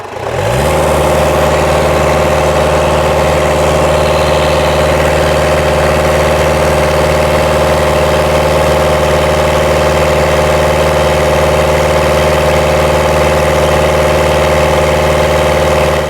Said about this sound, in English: And rev it up.